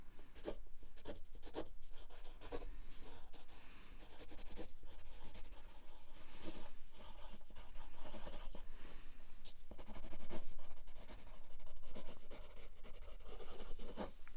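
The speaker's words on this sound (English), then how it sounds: "just write a few notes down here" A pen writes notes on paper close up in a quiet ASMR setting, with continuous scratchy strokes, short pauses and bursts of scribbling for the whole stretch, no talk.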